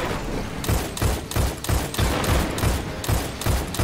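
Rapid bursts of gunfire in Destiny 2's Grandmaster Nightfall Arms Dealer strike, aimed at a tank's feet, come as a steady string of loud, close volleys with short gaps between them.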